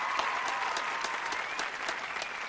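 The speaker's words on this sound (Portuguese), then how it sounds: "Conseguem aplaudir com mais força?" A crowd claps steadily in a continuous, fairly loud wash of applause, individual sharp claps poking through a dense even texture, with a faint tonal hum beneath.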